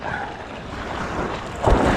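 Ocean waves slap and surge against a small wooden outrigger boat during a rough landing, with steady wind noise and a louder watery crash near the end.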